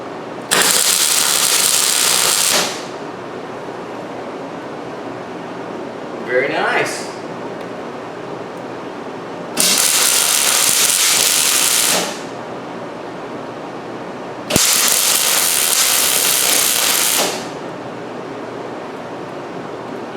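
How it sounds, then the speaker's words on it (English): A Millermatic 210 MIG welder runs after a liner replacement, giving three loud, steady crackling hiss bursts of a few seconds each, separated by quieter gaps with a brief faint sound between. "New liner, first weld."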